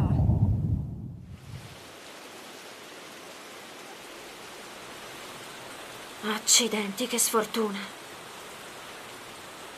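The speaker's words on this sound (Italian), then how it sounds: "Strano, un acquazzone in questo periodo." A steady, even hiss of a rain shower falls throughout, and a voice speaks briefly near the end.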